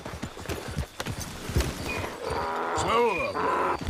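Horse hooves clip-clop steadily in Red Dead Redemption 2 as a rider urges the animal on, a rhythmic plodding gait heard close under spoken dialogue and ambient game sounds.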